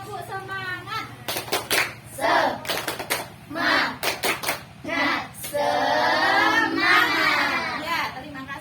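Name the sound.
class doing a rhythmic 'tepuk semangat' spirit clap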